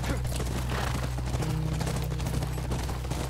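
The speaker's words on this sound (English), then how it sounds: "That's our horse." A horse's hooves clip-clop in The Last of Us Remastered game, a quick steady rhythm of close hoofbeats over a constant low hum, with no talking.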